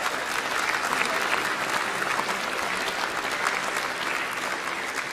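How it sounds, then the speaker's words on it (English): An audience applauds the volunteers who baked homemade cookies for a midday music concert: steady, dense clapping from a crowd, moderately loud and continuous throughout, with no break. "Please give them a round of applause."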